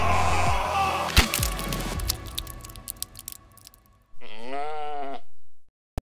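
A sheep bleats in a sustained, loud, wavering call that stands out alone after a stretch of other clattering sounds.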